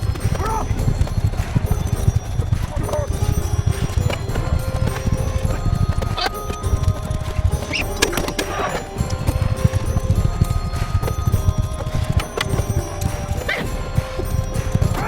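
Horses gallop in a Mount & Blade Bannerlord tournament with a steady, dense clip-clop of hooves, occasional whinnies and clashing impacts, and a voice speaking over part of it.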